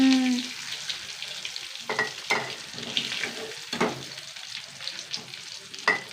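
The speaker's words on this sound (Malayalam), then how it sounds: "അടുത്ത ട്രിപ്പ് ഇട്ടൊന്ന് വറുത്തെടുക്കട്ടെ അല്ലേ" Tuna pieces frying in a hot pan give a steady, close sizzle and crackle, with a few sharper clatters and stirring sounds scattered throughout and no talking.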